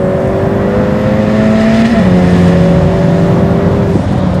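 Ferrari F8 Tributo V8 engine roaring loudly and steadily during a drift lesson on a track, pitch climbing then dropping sharply at two quick upshifts, continuous and close with no talk.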